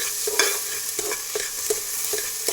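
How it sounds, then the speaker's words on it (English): Onions sauté in a pan for a lamb vindaloo curry, a close, crackling sizzle with regular spatula scrapes and taps every half second or so, no talking. "I'm going to continue to saute the onions."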